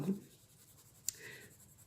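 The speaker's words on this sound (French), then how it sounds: "je reprends mon crayon le plus clair et je passe sur la totalité du dessin" A colored pencil shading across a drawing on paper, a faint soft scratchy stroke close up with one small tap partway through, alone and quiet.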